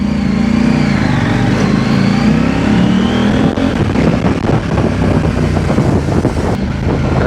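A CFMoto 800MT motorcycle fitted with an aftermarket slip-on exhaust runs loud and close, its engine note rising and falling through revs, with wind buffeting the microphone.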